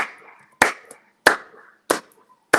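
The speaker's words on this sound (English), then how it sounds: "I don't even know why I'm clapping for you" Four sharp, evenly spaced hand claps ring out about two-thirds of a second apart, loud and close, with a faint tonal hum trailing between them.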